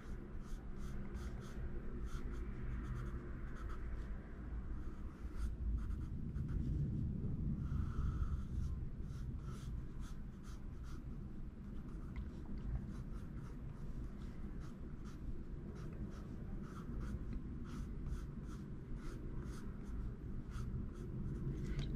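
Eagle black drawing pencil, an old model not used for drawing since the 80s, scratching steadily across paper in continuous close strokes, with soft breathing faintly underneath.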